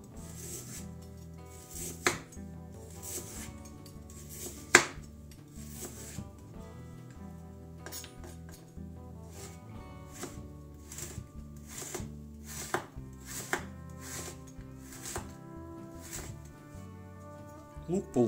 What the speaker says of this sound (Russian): Морковь нарезаю соломкой.